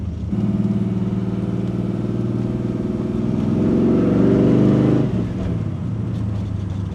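A 1967 Pontiac Firebird restomod rumbles with a deep, throaty exhaust note heard from close by, swelling as the engine is revved, then settling back toward idle.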